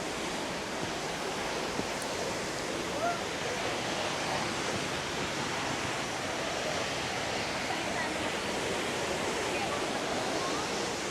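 Rushing water roars steadily and evenly throughout, like a nearby waterfall pouring down, with no breaks, at close range with spray, at Aw-asen Falls in Sigay, Ilocos Sur.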